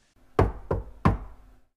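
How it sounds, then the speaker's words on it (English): Three sharp knocks on a door, evenly spaced and loud against an otherwise silent room. "Suddenly, I heard a knock."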